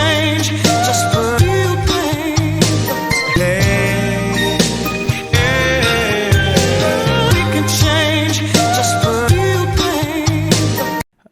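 A second sampled music loop for a remake plays for around eleven seconds, full and loud with bright melodic layers over punchy low hits in a repeating pattern, then stops suddenly.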